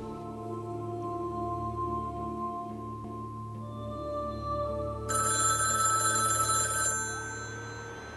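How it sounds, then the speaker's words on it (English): A desk telephone from the video game The McCarthy Chronicles rings steadily over a humming background, and the ring grows brighter and louder partway through, with no speech. "being jerked awake by a blend of nightmares and the phone ringing on your desk"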